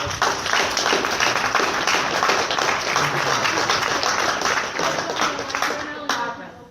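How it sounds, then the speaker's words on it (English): Clapping fills the room at a Southern Illinois congressional candidate forum, a crowd applauding the event organizers in a steady burst that tapers off at the end. "Can we just do a round of applause for that?"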